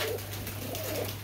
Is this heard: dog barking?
no